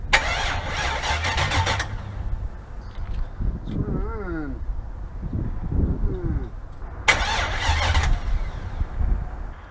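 A car engine with a suspected fuel-system blockage cranks with a rapid whirring starter, catches briefly and fires in rough bursts, then cranks again; a voice talks in between.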